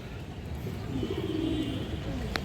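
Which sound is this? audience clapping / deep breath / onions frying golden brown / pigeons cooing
pigeons cooing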